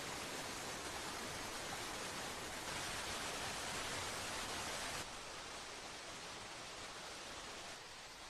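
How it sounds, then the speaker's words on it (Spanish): Waterfalls in a Croatian national park give a steady, faint, broadband rushing wash that keeps on without a break. "donde no se oye más que el murmullo de las cataratas"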